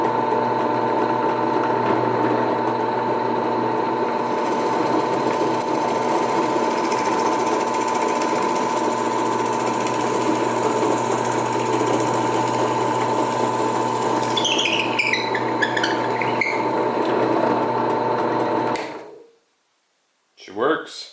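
A Harbor Freight 10-inch drill press runs with a steady motor whine and a rattling hum, boring through a workpiece with brief squealing bits, then spins down and stops near the end.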